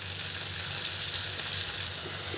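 Onion and tomato fry together in a pan, giving a steady, close, loud sizzle with a constant hiss that runs unbroken throughout.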